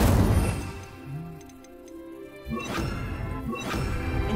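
A fire spell cast in Hogwarts Legacy, the Incendio charm, sounds as a dull thudding burst and then a rushing, crackling swell with sharp impacts, loud and close, with no talking.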